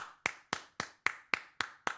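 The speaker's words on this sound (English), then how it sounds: "Golf clap." Eight crisp hand claps in a slow, even rhythm, spaced about a quarter second apart, close and clear with no talking over them.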